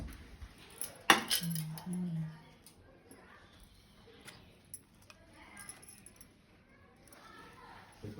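A steel plate and a rice cooker bowl turned over, giving a sharp metallic clank followed by a short ringing clatter and a few lighter clinks, close by and with soft talk in the background.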